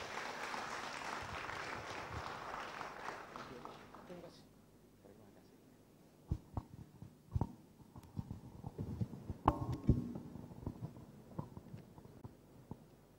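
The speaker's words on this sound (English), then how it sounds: "give big applause for him" Conference audience applauding after a plenary lecture, dense clapping for the first few seconds that fades out, followed by sparse knocks and handling noises with some talk.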